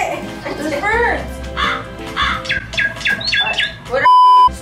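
Harsh bird squawks and crow-like caws sound in quick bursts inside an escape room, mixed with children's and adults' voices talking over them, ending in a sustained electronic tone.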